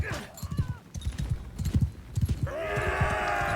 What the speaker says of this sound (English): And now my horse has stopped